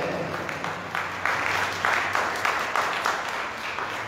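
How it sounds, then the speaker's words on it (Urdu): A congregation at a Christmas morning Mass applauds in a broad, diffuse wash of clapping that swells and holds for a few seconds, fairly loud and reverberant. "آئے خدا کا استقبال کرے زوردار تالیوں میں"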